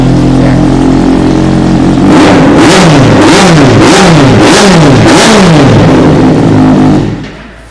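A used Kawasaki Z800 motorcycle engine idles, then is revved several times in quick repeated bursts, each rise and fall loud and close, before dropping back and cutting off at the end.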